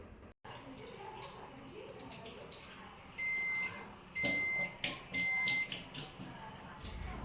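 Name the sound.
appliance beep signalling ghee rice is cooked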